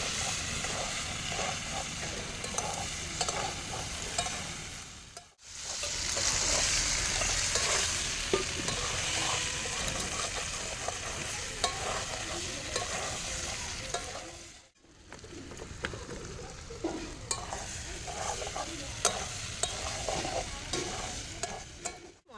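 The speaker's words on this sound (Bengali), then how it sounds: "এখন আমি দিয়ে দেব সেদ্ধ করা আলুগুলো ভালো করে নাড়াচাড়া করে নেবো" Boiled potatoes fry in spices in a pan, giving a continuous sizzle broken by scraping stirs, with two brief pauses in the cooking noise and no one talking.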